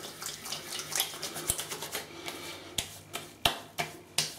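Aftershave glugs out of a bottle fitted with a small restrictor, making a quick run of wet gurgling pulses and splashes, close and fairly loud, the pulses thinning into a few sharper separate drips toward the end.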